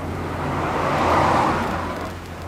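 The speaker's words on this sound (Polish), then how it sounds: "Jakiś zwykły samochód to był." An ordinary car passing on a road in deserted Futaba, inside the Fukushima exclusion zone, a broad whoosh that swells toward the middle and fades as it moves away, no voices.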